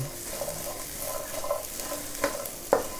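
Chili peppers are pan-roasted in a little oil and stirred, giving a soft continuous sizzle with faint scraping and a few sharper clinks of the utensil against the pan, fairly quiet and without speech.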